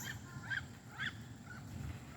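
Two black ducks give a few short nasal calls outdoors near geese, two or three quick honk-like notes at moderate distance over quiet background.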